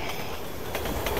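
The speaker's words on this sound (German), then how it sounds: "Wie können die Züge noch fahren?" A train rumbles along in Resident Evil 6, a continuous, loud mechanical roar of rolling rail cars that holds steady throughout and swells slightly toward the end.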